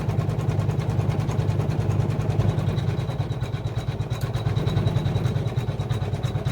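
A Janome Memory Craft 500E single-needle embroidery machine stitches a design onto a kids' shirt, giving a steady, close mechanical hum with a fast, even needle rhythm throughout and no talking.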